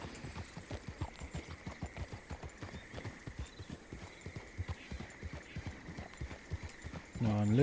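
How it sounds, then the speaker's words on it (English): Steady, rhythmic hoofbeats of a Blue Roan Missouri Foxtrotter walking in a western role-play video game, close and even-paced, with a voice breaking in at the end. "The presence of the horse is interesting."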